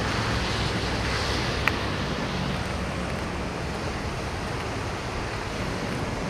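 Ocean surf washes in continuously at Santa Maria Suso Beach, a dense, even hiss and roar mixed with wind noise, steady and fairly loud, with a brief click partway and no speech.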